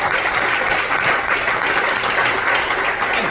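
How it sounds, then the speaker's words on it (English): A comedy club audience gives itself a round of applause after a stand-up set, steady dense clapping from the crowd filling the room without pause. "Give yourselves a round of applause."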